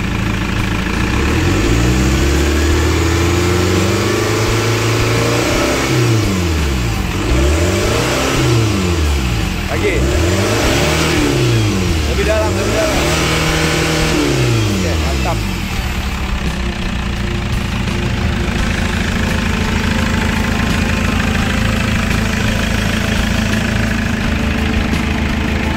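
Chevrolet Captiva diesel engine in a workshop, idling and then revved in a series of repeated throttle blips that rise and fall in pitch, with a steady idle returning afterward; loud and close, with people talking over it.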